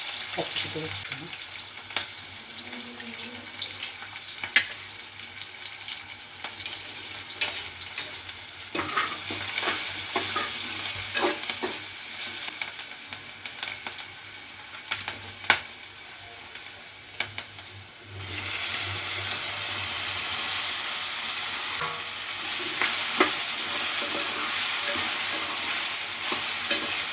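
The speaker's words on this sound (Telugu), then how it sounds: "కరివేపాకు, పచ్చిమిర్చి వేస్తున్నా." Curry leaves and green chillies drop into hot oil for okra fry, stirred with scraping utensil taps over a close sizzle that suddenly swells into a louder, steady crackling fry.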